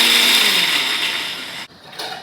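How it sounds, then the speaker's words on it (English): A kitchen blender coarsely grinds chopped onion with dry spices in a loud, high whirring run that stops abruptly, followed by a brief second pulse. "Now I will be adding onion in the same thing and blending it coarsely."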